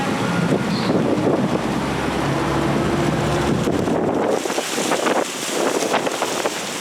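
Wind buffets an outdoor microphone at a Veterans Day ceremony, a loud continuous low rumble with gusty swells and no talk over it.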